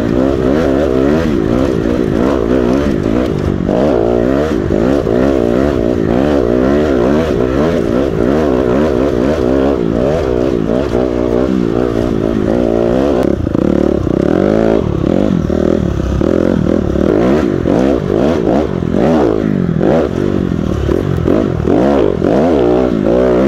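A 2019 Honda CRF250R dirt bike riding a dirt trail near Murphy, Idaho, its engine loud and continuous from close by, revving up and down steadily for the whole stretch.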